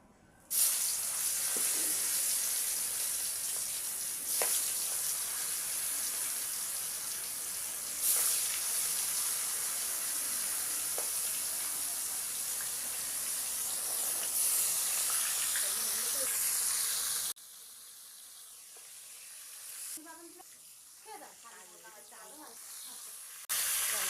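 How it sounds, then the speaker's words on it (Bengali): Turmeric sizzles loudly in hot oil in a pan before fish is fried, a steady hiss that cuts off abruptly near the end, followed by softer clatter. "দেখো আমি একটু তেলের মধ্যে হলুদ দিয়ে দিলাম"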